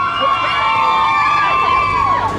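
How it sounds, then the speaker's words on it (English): Riders scream on the Tidal Wave ride at Lagoon Amusement Park, a dense, loud chorus of high overlapping shrieks and whoops rising and falling with crowd noise, close and continuous throughout. "Lots of screams coming from the tidal wave."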